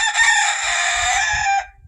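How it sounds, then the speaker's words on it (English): A rooster crows once on a farm near a barn, a loud, fairly close call lasting about a second and a half that ends abruptly, with faint low rumble underneath and no talking. "I'll time these in between crows from the rooster"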